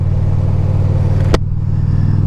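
Indian Chieftain Powerplus 112 motorcycle engine on a ride, a steady low rumbling drone held throughout with a sharp brief click partway through.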